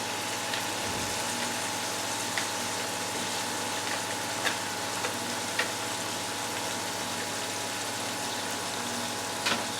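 Gravy is stirred into chicken, peppers and onions in a frying pan, giving a steady, close sizzle with soft scraping and occasional light clicks of the utensil.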